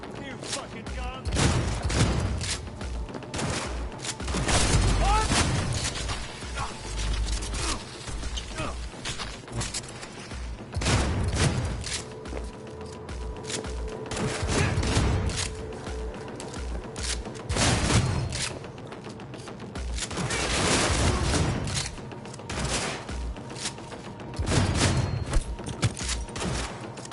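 Gunfire in the Cyberpunk video game comes as repeated loud bursts and rattling volleys with heavy booms, swelling and fading in waves, while a voice talks in between.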